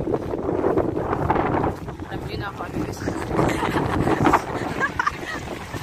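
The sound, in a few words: cold night wind blowing into microphone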